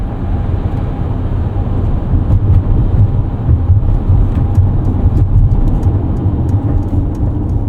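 A 2024 Mercedes-Benz eSprinter electric van accelerating flat out, heard as a steady loud low rumble of road and wind noise with a faint whine, continuous and without talking.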